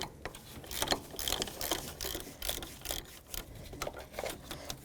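Ratchet with a 12mm socket clicking in quick bursts as it loosens a bolt on the power steering belt tensioner of a 1998-2002 Honda Accord, close and fairly faint, with no talk.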